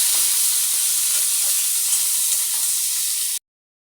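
Eggplant fries in a pan with ginger paste and green chili while being stirred, producing a bright, steady sizzle up close that cuts off abruptly near the end.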